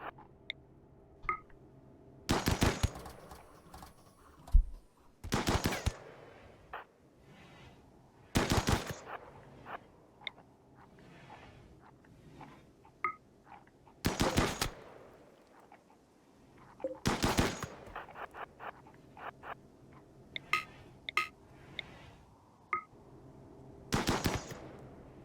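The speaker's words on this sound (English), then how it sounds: "Oh my god, you're shooting." Colonists open fire in RimWorld: sharp bursts of gunfire ring out alone at irregular intervals, about seven loud volleys spread across a quiet stretch with faint clicks between.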